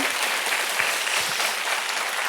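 A congregation at a youth worship conference claps in praise to God, a steady, dense burst of applause from many people filling the room throughout the short stretch.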